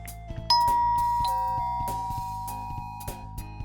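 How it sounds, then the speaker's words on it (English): A doorbell chimes in a game scene, a bright ding-dong tone ringing out and slowly decaying over a soft, plinking musical backing, with no talk. "The bell rings and no one answers."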